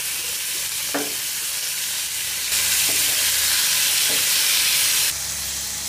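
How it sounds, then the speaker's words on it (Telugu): Chicken pieces dropped into hot oil in a heated pan, a loud crackling sizzle that surges in intensity, with a few utensil scrapes and clinks, no voices. "బాండ్లీ వేడెక్కిపోయిన తర్వాత ఆయిల్ కొంచెం వేసుకుంటున్నాను. ఇందులో మనం ఉంచి పెట్టుకున్న చికెన్ పీసెస్ కూడా వేసేస్తున్నాం."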